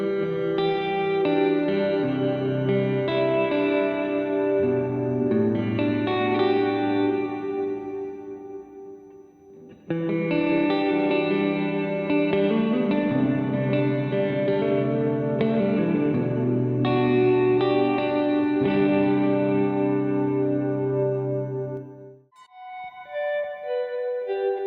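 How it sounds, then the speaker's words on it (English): Clean electric guitar chords through a NUX stereo reverb pedal, washed in long, lush reverb, notes blooming and sustaining into a spacious ambient wash, with a brief pause midway. "It's a powerful stereo reverb engine with classic modes like room,"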